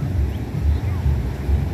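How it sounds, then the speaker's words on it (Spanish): Ocean waves roll onto a beach at Rosarito, heard as a low, continuous rumble with gentle swells rising and falling, mixed with wind noise on the microphone. "Miren nomás las olas del mar."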